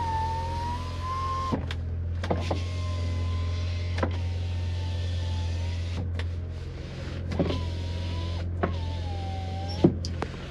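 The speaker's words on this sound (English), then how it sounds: "We have power windows, and they work." The power windows of a 1990 BMW 325i E30 sedan run up and down repeatedly, each pass a strained electric motor whine ending in a thunk, over a steady low idle hum in a quiet cabin.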